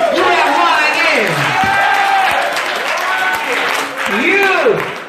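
A church congregation claps hands during a sermon, a burst of applause running under a preacher's loud, continuous talking.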